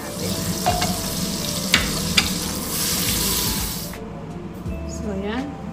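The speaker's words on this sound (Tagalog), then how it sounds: "Ipa-fry natin ng konti" Butter sizzling and frying in a pan while cooking creamy mushroom pork and beef with capsicum, a loud steady sizzle with stirring clatters and brief utensil knocks, easing toward the end.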